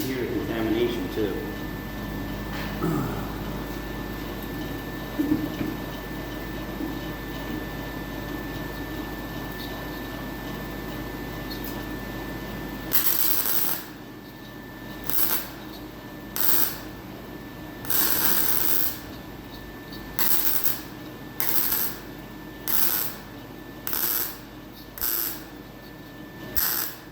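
Welding hot-side turbo piping in freezing weather with contaminated, thinner material: a steady crackling hiss for the first half, then a run of short bursts separated by gaps, all close and moderately loud.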